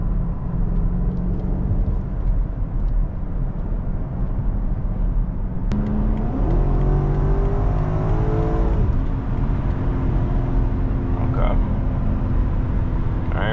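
A BMW X5M running a Stage 2 tune pulls hard in sport mode on a highway on-ramp, its engine note rising steadily under loud, constant road roar with quick gear shifts, while a person talks over it.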